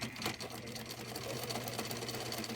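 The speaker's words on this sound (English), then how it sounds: "I'm going to sew across the top" A sewing machine stitching across the top of a fabric flap, a steady fast mechanical whir with regular needle ticks, close and fairly quiet.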